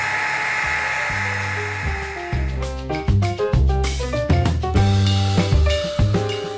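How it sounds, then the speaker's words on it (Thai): An electric drill bores a hole into a metal can for a science-week project, whining and stuttering in repeated bursts as the bit bites and catches, loud and close, with no talk. "ต่อไปแล้วก็จะใช้สว่านเจาะกระป๋องครับต้องระมัดระวังด้วยครับ"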